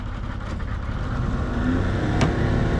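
A boat's outboard motor on a Louisiana bayou is throttled up, its steady engine drone swelling and rising in pitch, loud and close throughout.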